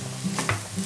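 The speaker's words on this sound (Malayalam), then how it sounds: "നന്നായിട്ടൊന്ന് ഇളക്കുക." Grated carrot is stirred in a hot pan for carrot rice, making a brief, soft sizzle with one or two quick scraping strokes nearby.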